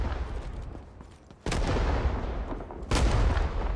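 Two sharp rifle gunshots in Rising Storm 2: Vietnam, each a sudden loud crack with a rumbling tail, the first about midway through and the second near the end, over a low ambient background.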